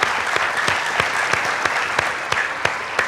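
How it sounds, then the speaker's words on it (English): Light applause at a quiz competition, with distinct individual claps standing out in a loose rhythm, moderately close and fairly steady. "Give Ukpata a big round of applause."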